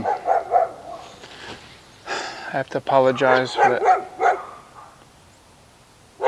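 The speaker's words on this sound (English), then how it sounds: "He's probably going to bark the whole video" A dog barks in short bursts from a neighbouring yard at the start, then someone talks over it and the barking fades behind his voice.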